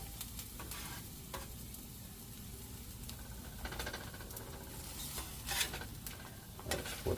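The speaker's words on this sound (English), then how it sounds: "Get the onions sauteing here a little bit." Onions sautéing in a cast iron skillet with bologna, a soft continuous sizzle broken by scraping and stirring clicks, fairly quiet and close, with no talking over it.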